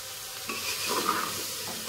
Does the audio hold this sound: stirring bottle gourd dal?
yes